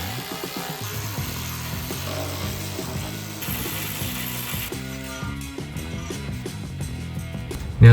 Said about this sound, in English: the first thing we're going to do is to remove the cross member on the Ford Territory